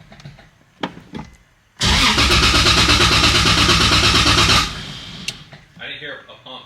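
A 2JZ-swapped Nissan 370Z Nismo cranks over in a loud, steady, harsh roar lasting about three seconds, then settles into a quieter, uneven running sound after a few faint knocks and clicks.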